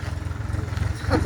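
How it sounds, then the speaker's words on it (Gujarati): A tractor hauling a trolley loaded with sand pulls away, its engine a steady low rumble with a rhythmic chug throughout and a brief brighter burst near the end. "આપણું ફાઇનલી ટ્રેક્ટર નીકળી ગયું છે રેતી ભરેલું"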